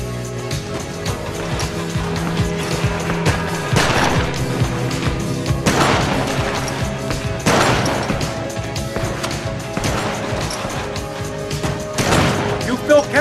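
Gunfire at a shooting range in GTA Vice City: loud single shots crack every couple of seconds over a constant background bed of game music and ambience.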